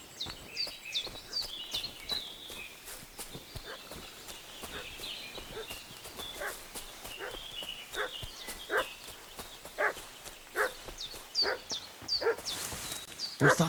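A dog barks repeatedly in short bursts, fairly near, in a medieval village setting from Kingdom Come: Deliverance 2. Hoof clops and footsteps run underneath, and the barking grows more insistent toward the end.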